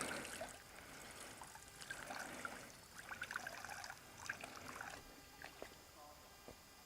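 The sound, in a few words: water being scooped into a filter bag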